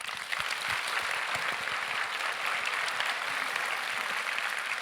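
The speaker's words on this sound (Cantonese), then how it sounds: "我哋再俾啲掌聲佢" An audience at a book festival talk gives a steady round of applause, a dense even wash of clapping throughout with no voices.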